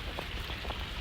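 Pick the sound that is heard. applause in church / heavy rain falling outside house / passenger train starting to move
heavy rain falling outside house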